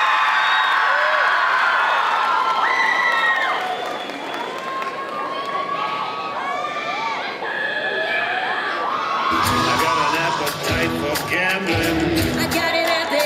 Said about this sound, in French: merci d'accueillir, sous un tonnerre d'applaudissements,